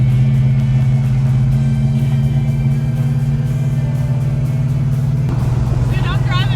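A 1969 Dodge Charger R/T SE with drum brakes drives along with a loud, steady low engine rumble and a constant drone. A voice speaks briefly near the end over the engine.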